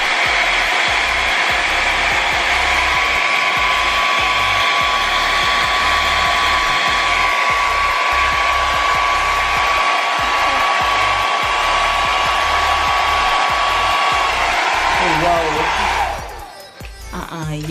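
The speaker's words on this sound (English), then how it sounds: "Let's go to the highest setting and let's just put it on cool, so it's not the heat blowing on our faces" Hair dryer blowing on its highest setting with cool air, a loud steady whooshing hum lasting most of the clip before cutting off near the end, with brief talking.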